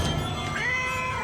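A cat meows from a TV show, one drawn-out rising cry heard clearly and alone, with no talking over it.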